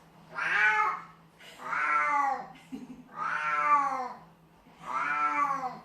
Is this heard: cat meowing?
yes